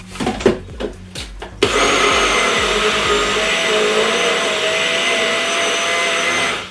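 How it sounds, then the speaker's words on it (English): A blender whirs loudly and steadily, grinding granulated sugar into fine sugar for a carrot cake, after a few sharp knocks and clatters as it is set up. "pop it into a blender and whiz it up and to make it nice and fine"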